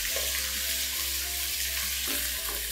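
Fried onions and ginger garlic paste sizzle in a pan for chicken kabuli pulao. The frying hiss is steady and continuous over a low electrical hum, with faint stirring knocks.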